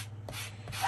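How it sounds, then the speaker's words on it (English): A sanding block rasps over a smooth journal cover in a few short strokes, a dry, close scratching that swells and fades over a low steady hum. "And so I just roughed it up a little bit with a sanding block there."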